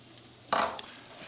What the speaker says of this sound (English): now those lentils are hot, we're going to throw in chopped onions